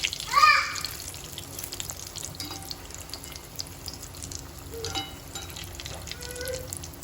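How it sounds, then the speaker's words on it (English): Vada pav frying in oil over a medium flame: a steady soft sizzle runs throughout, with a louder bubbling burst near the start and faint clinks of handling along the way. "we'll fry it in medium flame"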